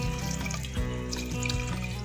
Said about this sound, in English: Add 300 ml of water.